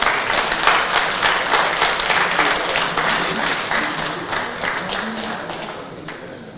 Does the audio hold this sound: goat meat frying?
no